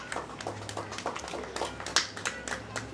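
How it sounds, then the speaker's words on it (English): A small audience at an outdoor summer concert gives scattered, sparse clapping, individual claps distinct and fairly faint, with low background noise underneath. "So we give them a round of applause for helping us out this year."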